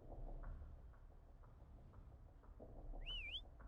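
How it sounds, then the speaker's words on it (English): A short rising-and-falling game whistle in the King of Retail video game sounds once near the end, clear above a soft bed of muffled background game noise. "There's the whistle."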